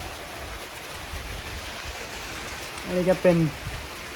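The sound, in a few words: rain falling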